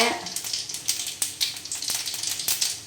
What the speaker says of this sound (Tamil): கொஞ்சம் சோம்பு, 2 பட்டை, 2 கிராம்பு வந்து போட்டுக்கலாம்